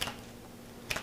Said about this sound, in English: then I go along with my clippers and I cut them all